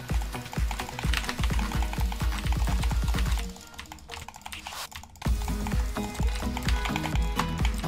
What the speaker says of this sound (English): Oh no, my mouse hit my keyboard,